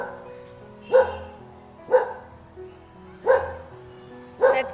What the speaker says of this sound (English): He is a very young dog.